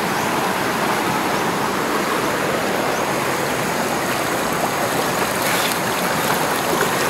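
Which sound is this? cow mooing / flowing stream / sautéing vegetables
flowing stream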